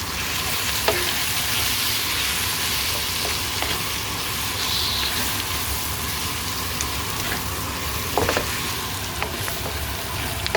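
Chicken pieces fry in curry powder with a loud, steady sizzle, broken by occasional scraping and clacking of stirring, heard close up with no voices.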